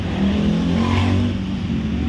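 Steady, loud engine rumble from a motor tricycle stuck in slow traffic, with a continuous drone and surrounding road noise.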